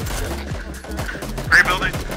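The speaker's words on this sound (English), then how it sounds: "Gunshots." Gunfire in the PUBG video game, a rapid burst of shots with one louder crack near the end, heard close over a busy game mix while players talk.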